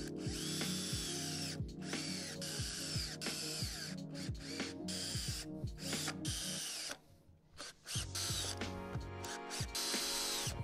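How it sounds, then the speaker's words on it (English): A power drill drives screws one after another into a 2x4, each run a loud rising whir ending in a brief stop, repeated in a steady rhythm close by with a short pause midway. "I'm going to put in some screws all along the side there"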